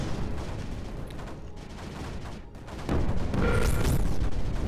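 Booming blast in Creeper World 4 erupts after a stretch of rumbling, crackling fire, swelling into a loud, sustained roar that rings on to the end, with no talking.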